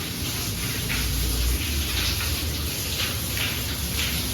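Heavy rain pouring down onto a flooded rooftop terrace, a loud, steady, even roar of falling water throughout.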